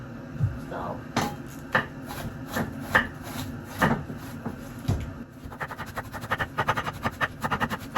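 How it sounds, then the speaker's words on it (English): A knife chops through cabbage on a cutting board for homemade KFC-style coleslaw, with distinct thuds about once a second at first, then a faster run of rapid close cuts. "we are done cutting our cabbage"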